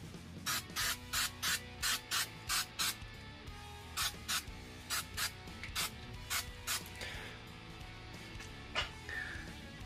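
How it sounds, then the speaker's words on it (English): Short rhythmic bursts of spray adhesive from an aerosol can hissing onto a hat, about a dozen quick pulses in a row, followed by a few more irregular sprays, close by. "And I'm just gonna spray this lightly."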